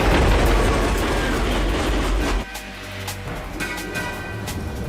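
Cartoon metro train running fast, a dense rushing rumble and rattle that drops abruptly to a quieter, tonal hum with scattered clanks, close and continuous with no voices.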